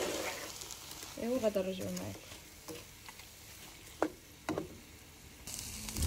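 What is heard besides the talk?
peppers and onions frying in a pan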